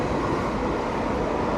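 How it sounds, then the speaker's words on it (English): A passing train gives a steady, dense broadband roar that holds level and fairly loud throughout, with no voices over it. "That's a train."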